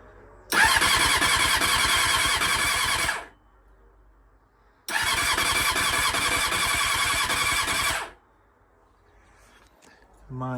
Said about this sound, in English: Let's see if she starts.